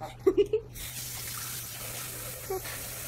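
Water splashes and runs briefly at the start, with a few short squeaky knocks, then a quiet room with a faint hum.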